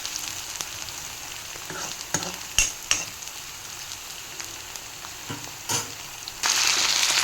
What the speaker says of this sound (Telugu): ఆనియన్స్ మంచిగా ఫ్రై అవ్వాలి.